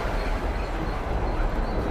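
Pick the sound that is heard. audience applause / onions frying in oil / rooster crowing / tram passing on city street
tram passing on city street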